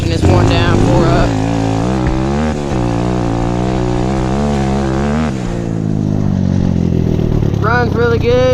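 An SSR150R dirt bike engine drones loud and close while riding in fourth gear, its pitch rising and falling with the throttle, with a rider's voice coming through near the end.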